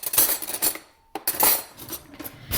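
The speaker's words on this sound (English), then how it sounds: "Let me get a big spoon." A big spoon rattled out from among metal cutlery, with bright clinks and scraping jingles in bursts, a short pause, then more clattering close by.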